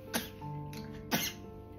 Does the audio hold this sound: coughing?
yes